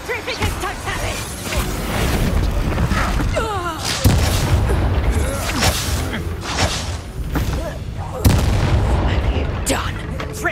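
Spell blasts from the Bombarda and Confringo curses in Hogwarts Legacy boom and thud repeatedly through a chaotic duel, with heavy explosive hits every few seconds under whooshing effects and spoken incantations.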